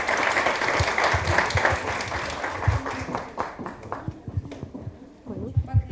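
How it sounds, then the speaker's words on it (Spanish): Audience clapping at a science talk, full and lively at first, then thinning out to scattered claps while voices and murmurs come through underneath. "les pido un aplauso para ellas dos"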